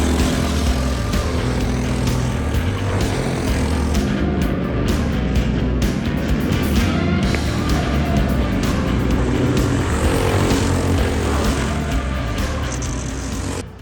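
Racing kart engine screaming through qualifying hot laps on a track, a loud, continuous, buzzing drone that stays close and steady throughout.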